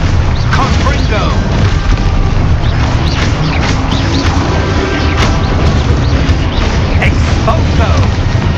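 A spell-casting explosion from a video game booms in a dense, continuous roar of blasts and crashing debris, loud and sustained throughout, with a voice calling out over it.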